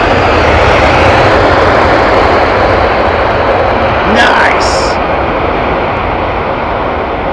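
An airliner landing at London Heathrow, loud and close, a broad steady engine roar throughout with a brief rising whine near the middle as it flares over the runway.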